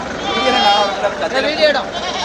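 Goats and sheep bleat at the Melapalayam goat market, several wavering calls rising close by over a constant crowd murmur, with people talking throughout.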